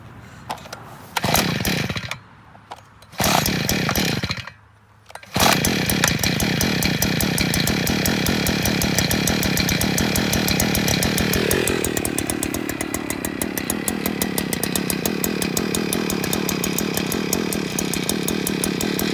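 A Predator gas auger powerhead engine sputters and cuts out twice before catching, then runs on with a loud, buzzing two-stroke drone that settles slightly lower toward the end, with no voices.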